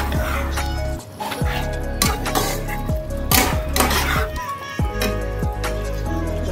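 Cashew paste being stirred into meat cooking in a pot, with repeated scraping and clanking of a spoon against the metal pot, loud and close, amid rhythmic kitchen clatter.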